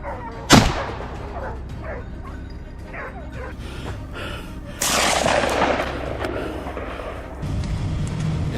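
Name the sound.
gunshot at a wild boar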